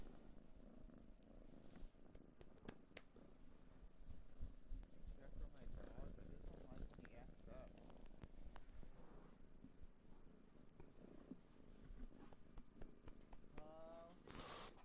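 A pet cat purrs steadily and softly up close in a quiet room, a continuous low rumble that runs throughout.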